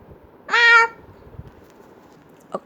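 A single close, clear meow from a large cat, followed by quiet room tone and a faint soft click.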